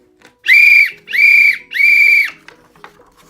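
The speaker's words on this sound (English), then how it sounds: "blowing his whistle" Police whistle blown in three loud, shrill blasts of roughly equal length with short gaps between them, close and piercing, followed by quiet.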